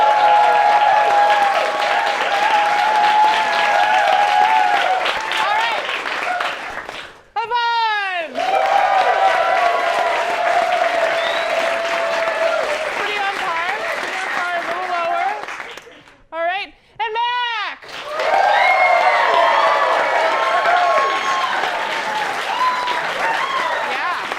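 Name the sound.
audience applauding an actor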